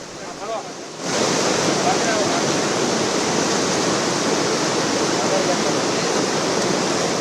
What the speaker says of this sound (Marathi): गोदापात्रामध्ये मोठ्या प्रमाणात विसर्ग सुरू आहे